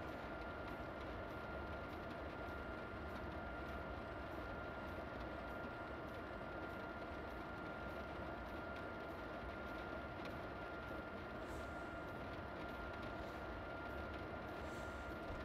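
A high-speed train in a train simulator game runs toward Munich on the Munich to Augsburg line in bad weather, giving a steady, loud, continuous rumble and roar with a broad rushing hiss that holds level throughout.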